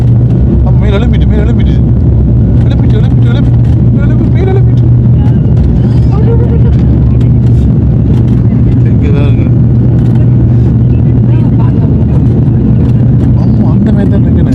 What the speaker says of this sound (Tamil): ஓடு பாதையில் ஓடுது. ஸ்பீடு மேல் எழுப்பிட்டு